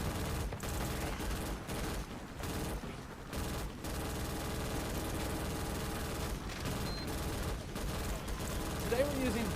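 A mounted gun in a video game fires in dense, rapid bursts, a sustained clatter of shots with short pauses over continuous battle noise.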